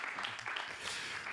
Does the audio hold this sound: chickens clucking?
no